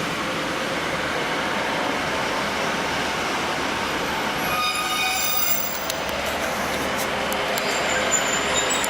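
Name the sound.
train arriving at Loughborough station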